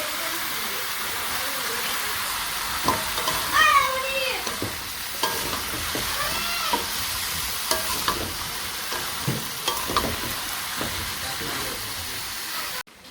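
Eggplant frying in hot oil in a village kitchen gives a steady, close sizzle throughout, with a few soft clatters from stirring or turning the pieces.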